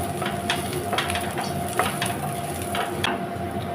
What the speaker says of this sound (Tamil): வெங்காயம் வதங்கட்டும். 2 வரமிளகாய், 1 கொத்து கறிவேப்பிலை.